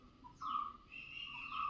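Small birds that come to feed and drink call in a few clear whistled chirps, moderately quiet, the longest ringing note starting about halfway through and trailing off, with no talk.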